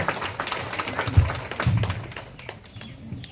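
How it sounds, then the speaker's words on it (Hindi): A church congregation claps for a sister being honored, scattered hand claps and taps of moderate loudness, with a couple of dull thumps, and no speech over them. "उनके लिए हम एक जोरदार तालियां देना चाहते हैं सिस्टर ज्योति के लिए।"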